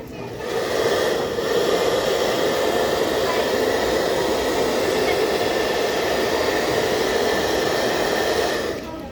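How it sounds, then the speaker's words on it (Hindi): A hair dryer blows hot air onto the temperature sensor of a smart agriculture science model, giving a loud, steady whooshing hum that runs almost unchanged for about nine seconds and fades at the start and end. "अभी मैं आपको हेयर ड्रायर की मदद से कर दिखाता हूँ।"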